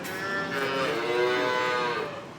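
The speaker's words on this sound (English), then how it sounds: "the cows go moo, moo" A cow moos in one long, loud, low call that swells and fades over a couple of seconds, close by with no other sounds.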